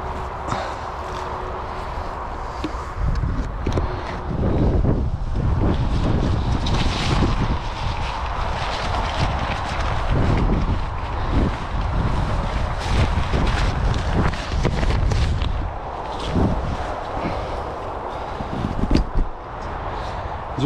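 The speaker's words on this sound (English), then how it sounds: "It's fairly windy." Strong wind gusts roar steadily across the bank at a new fishery, a broad rushing buffet that fills the whole scene without letup, with no voices.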